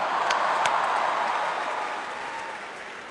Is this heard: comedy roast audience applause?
yes